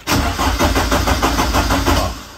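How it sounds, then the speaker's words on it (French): A Lotus Elise engine cranks with a rapid, even starter rhythm, then catches and runs, loud and close, tapering off at the end with no speech. "le moteur désormais tourne"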